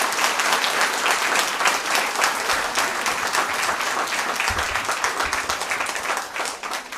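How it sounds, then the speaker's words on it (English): A large audience applauds at the prize distribution ceremony of the 19th K.K. Luthra Memorial Moot court competition in 2023, a dense, steady and loud wash of clapping sustained throughout with no talking. "we need a big applaud for this event."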